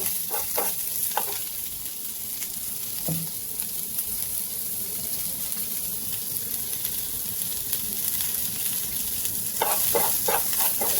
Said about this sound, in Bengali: এবার আমরা এটাকে হালকা একটু ভাজা ভাজা করে নেব।